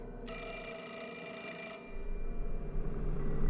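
An old-style telephone bell rings loudly in Fatal Frame, a single sustained metallic trill that stops abruptly, leaving a low rumbling ambience beneath.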